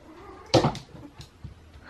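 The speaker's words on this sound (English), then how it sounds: "And there's one of my cats coming to check what I'm doing." A house cat gives a single short meow indoors, a brief moderately loud call followed by a few faint softer sounds and quiet room noise.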